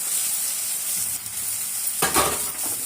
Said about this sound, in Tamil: இஞ்சி பூண்டு பேஸ்ட்டு நல்லா வதக்கிக்கலாம்